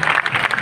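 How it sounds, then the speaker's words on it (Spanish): Spectators at the start area of a Spanish cycling race, the Vuelta, applaud in a brief burst of close, continuous clapping. "¿Cómo somos capaces de aplaudir a estas horas de la mañana?"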